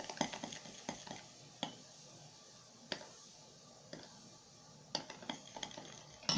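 A spoon stirs a thick paste of sugar and baking soda in a small bowl for a heel-crack remedy, giving faint, irregular scraping and clicking strokes that stand alone at close range.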